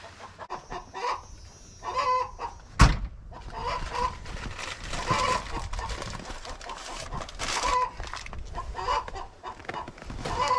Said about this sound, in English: The way that chicken is carrying on in there, we should have a whole bunch of eggs.